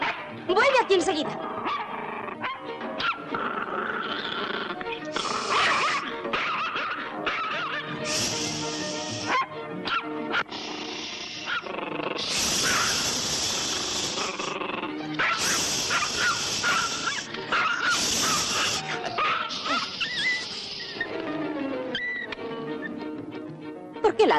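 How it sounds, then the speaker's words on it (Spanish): A dog in a 1957 film barks, yips and whimpers in bursts over a music-laden soundtrack, with people talking in between the vocalisations. "¿Por qué ladras? ¿No ves que ahí no hay nadie? ¡Oh, perrito malo!"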